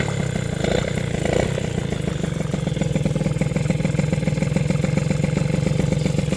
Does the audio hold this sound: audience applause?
no